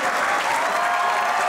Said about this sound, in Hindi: तालियां से बता दें यार